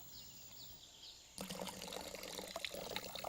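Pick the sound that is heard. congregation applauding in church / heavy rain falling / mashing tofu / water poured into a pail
water poured into a pail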